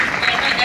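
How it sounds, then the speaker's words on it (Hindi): Audience at a skill development event bursting into applause, a dense patter of many hands clapping at steady loudness across the whole brief moment, with a voice speaking over it. "तालियां तो बजाइए आप लोग"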